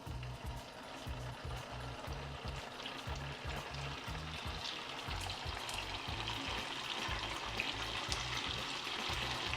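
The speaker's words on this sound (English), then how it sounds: "Go ahead and we put it inside to fry." Meat fries in hot oil in a pan or deep fryer with a dense, steady sizzle and crackle, and a bubbling pulse repeats low underneath. The frying keeps going at a constant moderate level with no voices.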